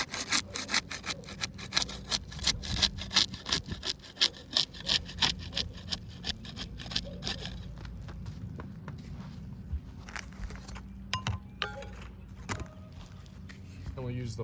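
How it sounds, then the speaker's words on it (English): A putty knife breaking the seal on asphalt roof shingles makes rapid, rhythmic scraping and rasping strokes that fade into sparser scrapes and clicks. Some speech may be faintly present. "We'll use the putty knife to unseal the top shingle."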